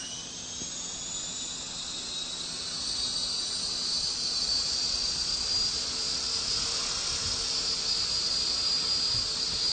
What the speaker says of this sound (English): upping the throttle and starting the helicopter up